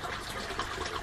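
Aquaponics bell siphon flushing water, driven by a high capacity pump: a steady, close rushing gush of draining water, continuous and fairly loud throughout with no talk.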